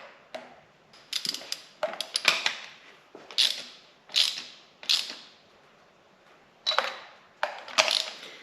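Spark plugs are snugged into a Mazda CX-5 engine with a hand ratchet, producing short clicking ratchet strokes repeated at an uneven pace, close and moderately loud, with no talking.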